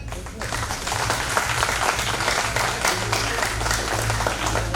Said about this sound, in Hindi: तो हम चाहते हैं कि आप सभी गेस्ट के लिए एक जोरदार ताली हो जाए।